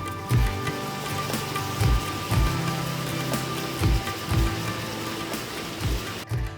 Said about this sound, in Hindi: लेकिन बारिश अभी भी काफी हो रही थी